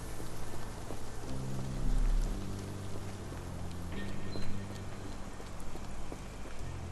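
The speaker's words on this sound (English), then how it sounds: "This dreary rain is making a miserable day even worse." Steady rain falls across a gloomy game scene, a constant hiss with scattered drops, while low ambient music tones play beneath it.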